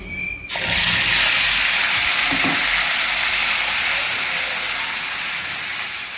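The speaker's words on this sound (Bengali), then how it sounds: "এখন এটা তেলের মধ্যে ছেড়ে দেবো" Ginger, garlic, onion, cumin, chili powder, salt and turmeric paste hitting hot oil with a sudden loud sizzle, then a steady close frying hiss that continues to the end, with faint stirring.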